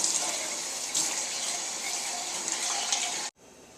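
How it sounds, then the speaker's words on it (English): Water runs steadily from a tap into cans of crushed tomatoes to rinse them out for marinara sauce, a continuous close gushing pour that cuts off abruptly near the end. "we're going to add about a half a can of water in each can"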